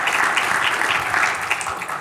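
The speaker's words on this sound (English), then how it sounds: "since you guys clapped" A conference audience bursts into sustained applause, dense hand clapping from many people filling the room, loud and even for about two seconds.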